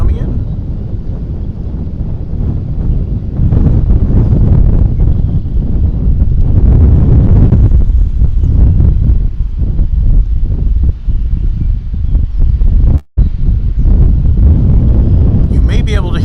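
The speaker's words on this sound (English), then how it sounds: "The wind is very much picking up at this time." Strong wind at DFW Airport buffets the microphone in loud, rough gusts that roar steadily, broken by one brief dropout.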